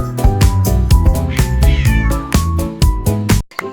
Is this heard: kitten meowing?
yes